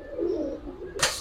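Two pigeons, a pair of solid black birds, give soft low cooing close by, a steady murmuring coo running throughout, followed near the end by a brief loud burst of broadband noise.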